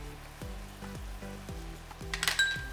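Onions and brown sugar sizzle in a frying pan as bacon jam cooks, with a steady quiet crackle, repeated soft stirring scrapes and a few sharper clinks near the end.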